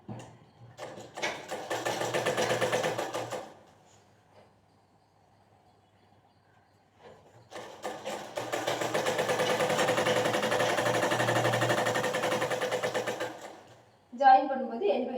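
A sewing machine stitches the side seam of a baby frock in two long bursts of rapid, close mechanical whirring. A quiet pause separates them, and a voice speaks at the very end.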